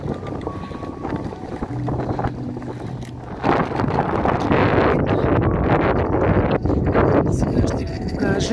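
Strong wind buffets the microphone in a constant rumbling roar that grows heavier partway through, with voices faintly underneath.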